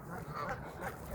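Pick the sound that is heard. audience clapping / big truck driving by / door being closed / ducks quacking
ducks quacking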